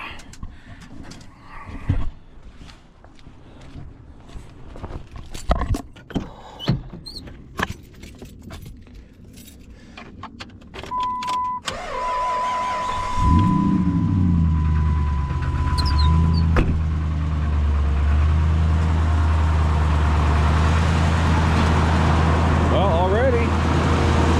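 A 2006 Dodge 2500 pickup with a 5.7 Hemi fitted with a new PCV valve and catch can cranks and starts, then settles into a steady, loud, low idle rumble after earlier clinks, jangling keys and a brief high tone.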